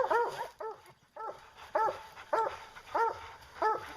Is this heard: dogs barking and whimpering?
yes